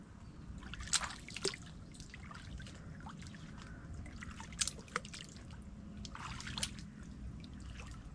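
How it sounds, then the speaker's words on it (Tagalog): Soft rain patters and dribbles in flooded surroundings, a low steady watery bed broken by irregular crisp drips, fairly faint and free of speech. "Naulan na naman po sa amin."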